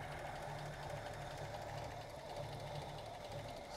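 A quiet Ford engine idles steadily with a soft, even mechanical hum and faint rhythmic ticking, low in level and continuous throughout.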